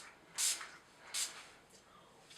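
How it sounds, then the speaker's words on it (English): Two short hissing bursts of Urban Decay All Nighter makeup setting spray, close to the microphone, separated by a brief pause and followed by a faint third puff in a quiet room. "use my Urban Decay All Nighter setting spray to make sure that"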